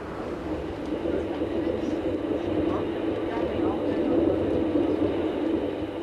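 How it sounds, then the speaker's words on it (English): A rack railway train descends steeply from the Oberalp Pass in the Swiss Alps, giving a steady, continuous low rumble and rolling drone that stays even throughout, with no clear voices. "The rack system enables the train to make steep descents as well as steep climbs."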